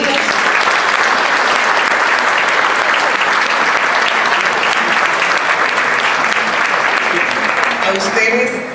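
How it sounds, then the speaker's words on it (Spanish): Strong applause sending off a speaker at a Dominican history congress, loud continuous clapping from a large audience that begins to taper at the very end, with a voice emerging faintly as it fades. "con un fuerte aplauso le despedimos"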